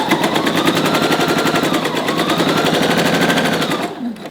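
A sewing machine stitches along the side of a puffy dress sleeve, a fast, even, close-up rattling needle rhythm that runs steadily for about four seconds before stopping abruptly.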